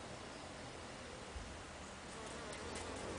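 Honeybees buzz steadily around a hive as they move in from a package, a dense, continuous hum with no talking.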